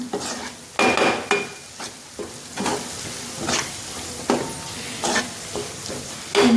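Egg noodles with masala are stirred in a frying pan, the spoon scraping in irregular strokes over a steady low sizzle, close and alone.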